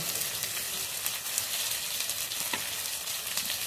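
A masala of chilli, turmeric, coriander and cumin powders with salt sautés in a pan for a crab curry, making a continuous close sizzle. Faint stirring scrapes sound underneath.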